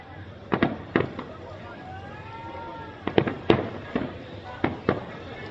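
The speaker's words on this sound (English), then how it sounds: "No way! There's so many fireworks here." Fireworks bursting outdoors in a dense display, sharp cracks and bangs arriving in clusters of two or three, fairly close and loud over a low background rumble.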